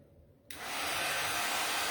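A hair dryer switches on after about half a second and then blows steadily and loudly, drying a handmade Christmas gnome craft in a home kitchen.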